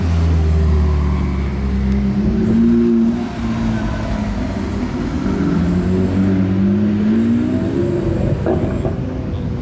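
Hypercars and sports cars, including an M5, F8 and SVJ, rumble past in a parade convoy in Monaco, their engines revving and droning loudly and continuously at close range with no talk.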